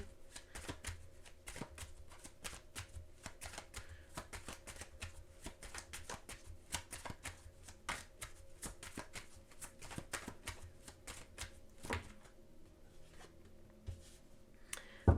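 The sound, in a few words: shuffling a tarot card deck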